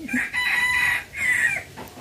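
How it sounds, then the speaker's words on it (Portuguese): A rooster crows twice on a farm in the countryside, each long call close and loud with a short pause between, no talking. "é o som do galo cantando"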